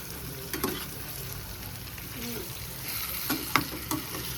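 Onions frying in a pan give a soft, steady sizzle broken by a few scraping stirs, fairly quiet and with no talk over it.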